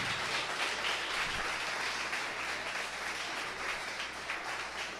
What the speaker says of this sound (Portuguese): Palmas para Jesus, bem alegre.